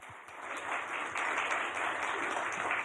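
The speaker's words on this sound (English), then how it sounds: "please join me in giving a big round of applause to our panel" Faint, steady applause comes from an audience clapping for the panel at a brown bag lunch talk, a soft continuous patter that builds slightly after the first second and then stays level.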